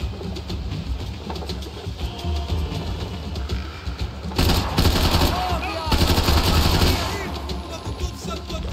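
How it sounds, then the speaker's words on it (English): Gunfire in the Max Payne 3 video game keeps up steadily throughout, with the volume rising into louder, denser bursts in the second half over a busy mix of game sounds. "Shooting through the crate does nothing"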